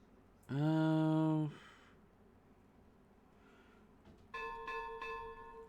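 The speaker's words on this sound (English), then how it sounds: "Alright, the bells ring." Bells ring in the beaver city-building game Timberborn, with one bright sustained chime followed by a second, higher ringing tone a few seconds later, heard alone over faint background.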